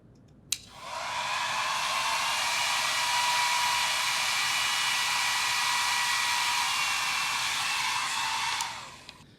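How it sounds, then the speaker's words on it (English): A hair dryer running on high with its cold shot feature engaged: a click, then a steady, loud, airy whir holding for about eight seconds before it switches off with another click. "this hairdryer has a cold shot feature. So I'm going to turn that on while it's on high."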